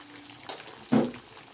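Onion and curry leaves tempering in hot oil for red lentil and spinach dal, a brief close crackling sizzle with a sharp burst near the end as something hits the pan.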